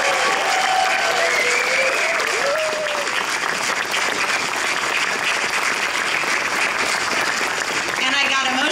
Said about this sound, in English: So I would really like a big round of applause for all of those folks.